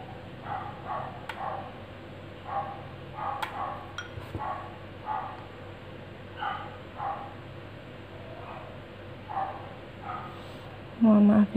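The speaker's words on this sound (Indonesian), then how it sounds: "kalau teman-teman dengar suara anjing" A neighbour's dog barks repeatedly in the distance, in short faint bursts spread across the scene, with household background noise.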